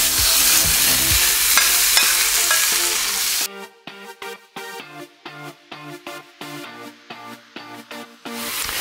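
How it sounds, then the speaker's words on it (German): Loud, continuous sizzling of minced meat searing in a hot pan without fat, then a rhythmic run of spatula scrapes and stirs as the frying carries on underneath. "damit ich das Hackfleisch richtig scharf anbraten kann"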